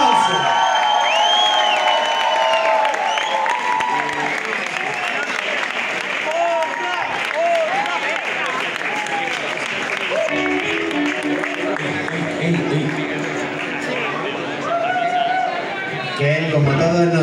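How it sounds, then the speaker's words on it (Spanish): Concert crowd at Madrid's Sala Cool rock show applauding, cheering and whooping loudly for the full stretch, with shouted voices and chatter mixed into the steady roar of clapping. "¡Un fuerte aplauso!"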